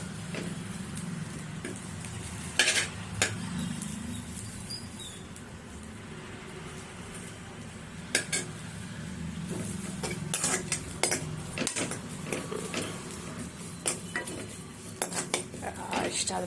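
Drumstick leaves being dry-roasted in a pan for chutney powder, with a spoon repeatedly scraping and clinking against the metal pan amid a quiet, low background.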